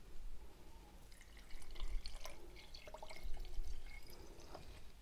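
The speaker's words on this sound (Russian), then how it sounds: "наливайте очень-очень теплую воду для того, чтобы брожение началось как можно быстрее" Warm water trickling and dripping into a jar of kiwi for homemade vinegar, a soft close splashing and dribbling flow in a quiet kitchen.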